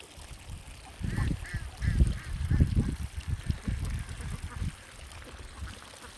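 Ducks feeding on the bank of the Atrai river make low, busy dabbling and gabbling sounds with a few short nasal quacks, close and continuous over faint ambient background.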